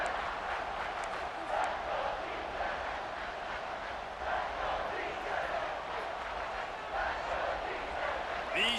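A stadium crowd in the College Football 26 video game roars in a dense, sustained wall of cheering that surges and swells in waves, heard alongside ongoing speech.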